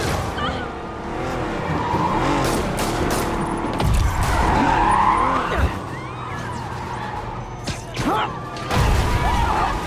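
Cars skidding and tearing around recklessly in the Marvel's Spider-Man video game, with sustained engine roar, sliding tire squeals and sharp crash-like impacts layered through a loud, busy ten-second chase mix.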